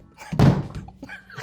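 A single loud, close thump, like a hand or foot striking a hard surface to beat out a rhythm, followed by quieter shuffling.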